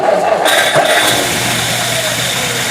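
A 1955 Ford wagon engine cranks and catches, settling into a steady running note close by, with a brief voice near the start.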